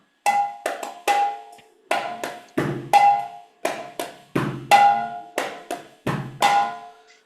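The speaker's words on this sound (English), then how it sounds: "This is the sound of clay Mridanga." Hand-struck clay mridangam with a ringing, pitched tone plays a lively rhythmic pattern of sharp slaps and deeper booming strokes, solo and close.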